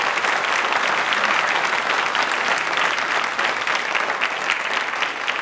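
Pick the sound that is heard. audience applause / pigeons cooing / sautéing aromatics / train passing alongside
audience applause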